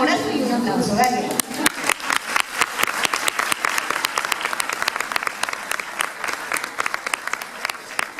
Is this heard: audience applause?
yes